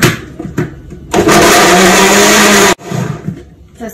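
A blender runs close and loud for about a second and a half making tomato juice, a harsh steady motor whir that stops abruptly, with quieter kitchen handling noises before and after.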